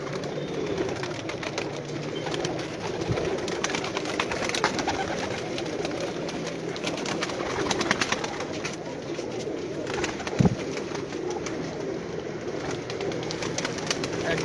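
Pigeons coo steadily from a rooftop loft, their soft repeated calls layered over a constant background hum, with no clear talk.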